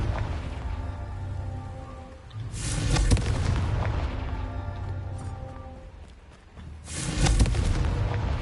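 Two heavy booming blasts from a Confringo fire spell in a PS5 video game, each a loud broadband burst with a rumbling tail, set against a steady low ambient game background.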